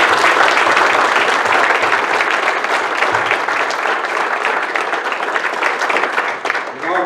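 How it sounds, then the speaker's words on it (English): Loud, sustained applause from attendees at an ASHRAE chapter meeting dinner, a thick crowd of clapping hands that carries on evenly and thins out just before the end. "so let's give them a round of applause."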